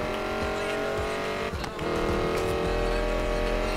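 Engine of a car driven in the racing game Need For Speed Payback, a steady loud drone with a brief tire scrub midway, then rising revs, under background game sound.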